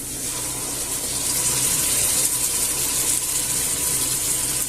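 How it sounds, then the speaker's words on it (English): Water pours steadily into a soup pot of chicken, chorizo and chickpeas for a few seconds, a close, even rushing splash with no voices. "I'll add about a glass of water."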